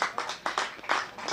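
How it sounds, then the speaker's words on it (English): A thin ripple of applause from a sparse cricket crowd at an Essex v Kent match, about eight separate claps in quick, uneven succession, fairly faint and distant. "So, ripple of applause for Sam Cook for taking that first wicket of the innings"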